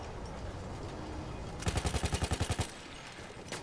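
Gunfire in the video game Battlefield 1 comes as one loud burst of about ten rapid, evenly spaced shots over a low ambient background, then fades back to a quiet hum.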